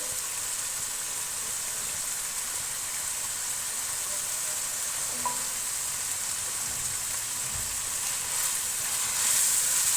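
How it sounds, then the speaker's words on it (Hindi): Chicken karahi sizzles steadily in a pan as fresh cream is stirred in, a constant hiss of frying with faint scraping and stirring touches near the end. "अभी करीम के साथ मैंने इसको मिक्स कर लेना है"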